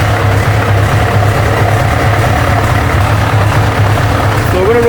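A Scania 143 V8 heavy wrecker truck's diesel engine idles loudly and steadily with a deep, continuous rumble for the whole stretch.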